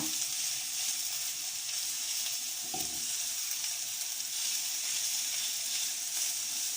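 Carrot and onion sizzle in a frying pan with no oil left, a steady crackling hiss with one brief scrape of stirring partway through.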